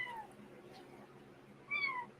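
A tiny kitten gives two thin, high meows separated by a pause, faint against a quiet background.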